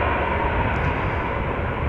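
A six-year-old Embraer 175 airliner departs Schiphol Airport in Amsterdam for Genoa, its engines a steady, dense roar that holds at an even level for two seconds.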